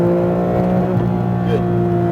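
A Porsche GT3 RS on the Speed Vegas track gives a sustained, strongly tonal engine howl heard from inside the car, holding a steady pitch through the short stretch.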